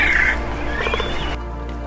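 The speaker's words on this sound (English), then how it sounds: "There's just birds right above our heads in the treetops." Birds calling from the treetops of a jungle-like forest on Isla Isabel, Mexico: a short, loud squawking call followed by softer harmonic chirps, with no talk in the brief clip.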